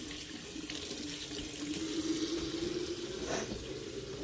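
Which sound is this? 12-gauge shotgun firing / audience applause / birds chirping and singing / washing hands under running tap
washing hands under running tap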